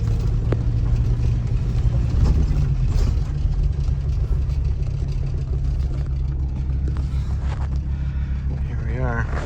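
A Volvo 850 T-5R rescued from a junkyard driving on a road, heard from inside with a constant low engine and road rumble, wind noise and some bumps, while a voice speaks over it.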